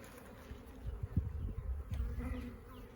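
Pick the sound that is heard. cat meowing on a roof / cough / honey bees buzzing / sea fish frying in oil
honey bees buzzing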